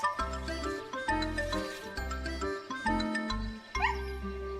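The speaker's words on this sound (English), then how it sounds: "she gave a happy little bark" A small cartoon dog gives a few quick, cheerful yips over bouncy background music.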